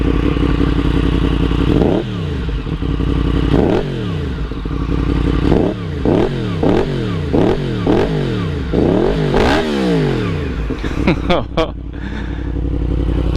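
A Yamaha FZ-10 cross-plane motorcycle engine revs hard through its exhaust in about eight to nine sharp, close blips that rise and fall, settling into a loud idle between bursts.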